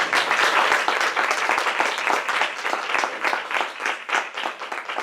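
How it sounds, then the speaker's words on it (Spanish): An audience claps steadily at the end of a talk about garbage and waste driving global warming, a dense, even wash of many hands lasting throughout at moderate loudness, with no talking over it. "un aplauso."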